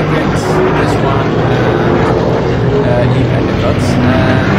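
Pod racer engine from the Star Wars Episode 1: Racer video game: a loud, steady, droning roar that runs without a break and loops with a noticeable repeat.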